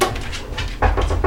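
Dogs bark in short, close, loud bursts, several quick barks in a row with brief whimpering sounds between them and no talk.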